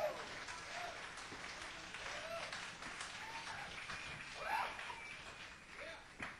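Crowd applauding at a live blues concert at The Jabberwocky, Syracuse University, Syracuse, NY, in 1985, faint, distant-sounding clapping and murmuring that continues steadily throughout.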